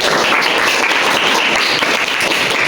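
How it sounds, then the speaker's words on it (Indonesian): A classroom group is applauded with steady, dense clapping from many hands, loud and close, running continuously throughout with no talk over it. "Tepuk tangannya mana untuk kelompok"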